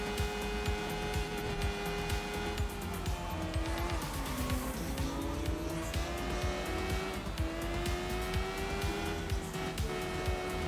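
Race cars roar through a Sleeping Dogs racing video game, engines rising and falling in pitch with tire squeals mixed in, a continuous loud drone for the whole stretch.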